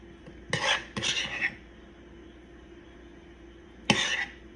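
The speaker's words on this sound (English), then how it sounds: "now I am just filling my hard-boiled eggs with the filling" A spoon clinks against a dish in three short, close scraping bursts while filling hard-boiled eggs for deviled eggs, with quiet gaps between them and no talking.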